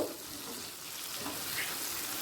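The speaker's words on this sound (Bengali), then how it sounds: "টমেটোটা পেঁয়াজের সাথে ভেজে নেব" Tomatoes frying with onions in oil in a pan, a soft, fairly quiet continuous sizzle with a light watery hiss throughout.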